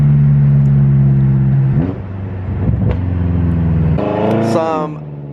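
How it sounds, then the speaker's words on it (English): A BMW M5 engine revs up and drops, then surges again with a rising whine from the exhaust, loud and close, with no talking. "But you guys can hear the exhaust right there."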